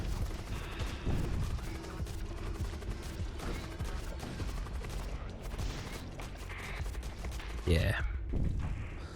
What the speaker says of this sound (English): I'm just going to fire everything at their weapons.